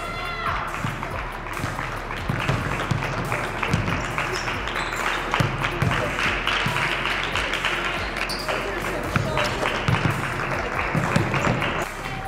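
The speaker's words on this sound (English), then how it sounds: "If you don't have a ball in your hand, you should be clapping." Basketball players clap their hands during a chest pass drill in a gym, with sharp rhythmic claps and ball bounces spread through the clip under shouting voices and echoing court noise.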